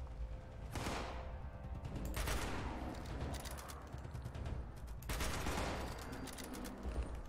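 Rapid bursts of gunfire in the video game Fallout 76, loud and dense volleys repeating across the clip with no talk over them.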